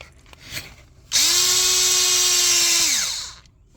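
Cordless power tool spinning out a bolt on a Mercedes ML350 water pump, one loud sustained whine of about two seconds that winds down at the end, close up, after a few faint clicks.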